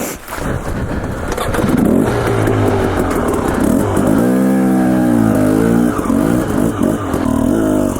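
Dirt bike engine revving and shifting pitch while riding rugged desert terrain in the rocky canyons of Oreana, Idaho, loud and close throughout with steady throttle swells.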